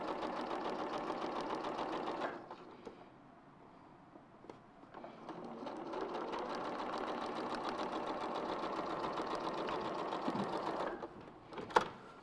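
A sewing machine runs steady and fast while machine quilting a log cabin quilt, humming continuously, pausing briefly, then resuming, with a sharp click near the end.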